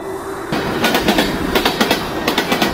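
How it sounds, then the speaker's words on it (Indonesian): Train wheels clack rhythmically over rail joints, loud and close, a steady repeating pattern with rumbling underneath and no voices. "Gak ada suara mesin, cuma bunyi roda di rel, klak, klak, klak."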